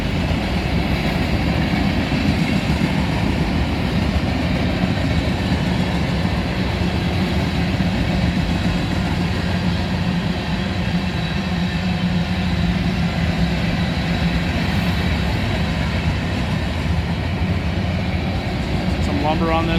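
BNSF freight train rolling past near Oak Harbor, a steady loud rumble of railcars and engine drone that continues without a break from start to finish.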